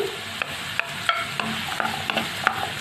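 Hot chili peppers fry in oil with garlic in a pan, giving a steady sizzle punctuated by sharp stirring scrapes and clicks, close and with no talking.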